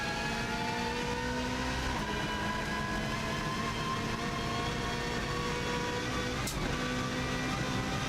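Rally car at speed on the bumpy Isle of Man TT course between Ginger Hall and Ramsey, a steady loud engine drone from inside the car with a jolt from a bump near the end.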